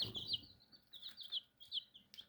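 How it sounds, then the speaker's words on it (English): Young chicks chirp in a series of high, thin peeps, about eight short calls in quick irregular bursts, close and fairly soft, with a brief low murmur at the start. "Got some new chickens."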